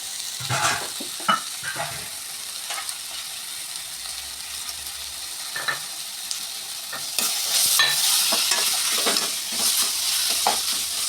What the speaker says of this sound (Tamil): அதையும் சேர்த்து வதக்கிக்கலாம் இதை வதங்குறதுவே நம்ம கொஞ்சம் தக்காளி ஆட் பண்ணிக்கலாம்